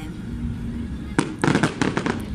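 Fireworks bursting at an international pyrotechnics competition in Cannes, France: after a low steady rumble, a sharp loud boom followed by a quick cluster of crackling explosions, with crowd noise underneath.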